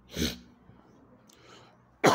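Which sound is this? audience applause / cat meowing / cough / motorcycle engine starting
cough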